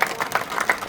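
A political rally audience clapping, a brief burst of rhythmic claps at a steady, even pace, fairly loud and close, with faint crowd noise behind.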